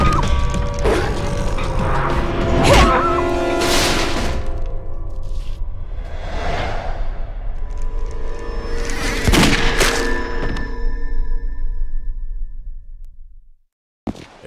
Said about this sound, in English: Gunshot! Back there!